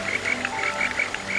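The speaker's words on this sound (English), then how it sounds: "This is the sound of Burgeri robustus." A Buergeria robustus frog croaking by a river, a rapid series of close, bright chirping calls repeating about six times over a steady background hum of flowing water.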